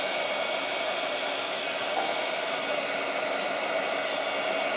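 A hair dryer blows hot air over small burlap flowers held with pliers, a loud, close, constant whooshing drone that never lets up.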